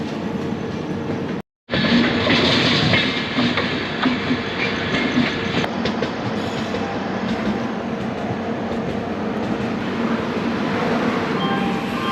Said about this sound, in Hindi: और भाई सामने ट्रेन लगी हुई है, जा रही है मदुरई बीकानेर